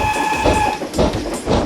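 A small steam engine train runs with a steady rumble and clatter of wheels, a continuous moderately loud rolling sound with no voices.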